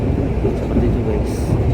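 Heard from a rear seat inside a KA Argo passenger train travelling from Jogja to Jakarta, a loud, steady low rumble and rolling clatter fill the cabin as the train enters a station.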